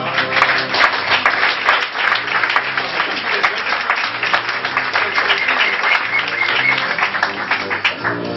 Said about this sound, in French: Marie-Odile Delabrèche et Inge Windelson, qu'on applaudit bien fort.